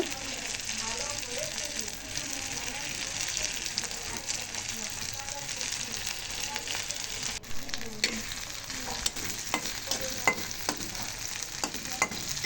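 Beef with capsicum, sauce and onion sizzles in a pan as pizza topping, a steady dense crackle with occasional stirring scrapes and clicks throughout.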